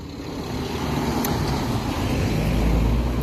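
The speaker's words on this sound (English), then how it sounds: "Just letting the traffic through, as you can see." Steady road traffic rolling along a town street in Knaresborough, England, with a continuous broadband rumble of passing cars and a heavier vehicle swelling louder toward the end, no talking.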